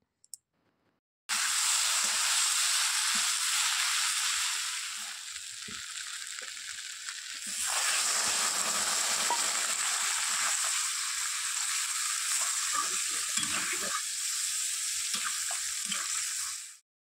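A ground spice paste made with dried red chillies fries with vegetables in a pan, giving a loud, steady crackling sizzle that continues close by for about fifteen seconds, easing briefly midway.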